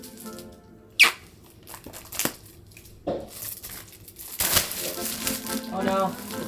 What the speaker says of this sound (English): Oh no, the plastic sound is attracting the catos.